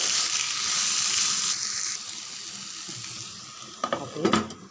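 Eggplant curry fries in a pan with a constant close sizzle that gradually softens, then a few scraping, clattering stirs near the end.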